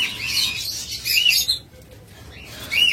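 Caged masked lovebirds, a Euing mask pair offered for sale, chirp in bright, busy bursts that fill the space. A brief lull in the middle gives way to more twittering near the end.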